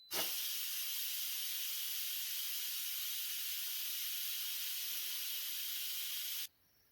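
An Instant Pot Mini vents its pressure after cooking chickpea and pancetta soup, a loud, steady hiss of escaping steam that holds for about six seconds before cutting off abruptly into near silence.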